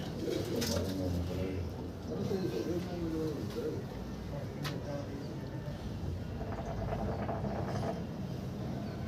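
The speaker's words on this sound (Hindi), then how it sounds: "कबूतर रेडी करते हैं।" Pigeons coo in soft repeated rumbling calls nearby, mixed with someone talking and occasional clicking and rustling.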